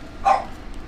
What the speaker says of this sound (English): Shut up, dog. Hush it up.